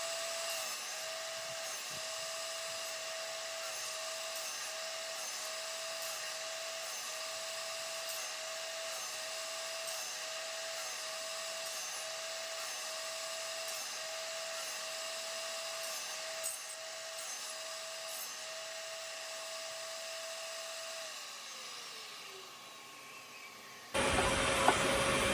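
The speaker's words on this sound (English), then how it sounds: "then I'll just sand them a little bit smooth, kind of get rid of the rough edges" A power sander smooths rough edges off wooden pieces for outdoor furniture, a steady, continuous whine running for over twenty seconds before winding down and cutting off near the end.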